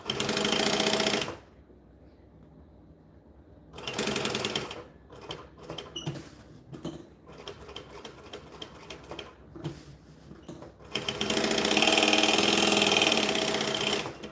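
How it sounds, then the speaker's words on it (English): A sewing machine stitches bonded nylon fabric for a bag in loud bursts of rapid mechanical whirring, separated by pauses and short back-stitch runs, close up with no talking. "Line it up, under we go, stitch, back stitch"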